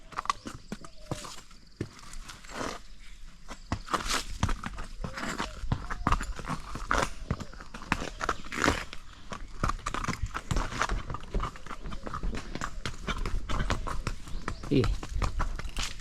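A horse walking on a trail, its hooves clip-clopping in a steady, close rhythm, with people talking over the hoofbeats throughout.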